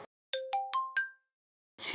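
Phone ringing tone at the start of a call: four clear electronic beeps, each at a higher pitch than the last, evenly spaced and close, then a brief burst of noise.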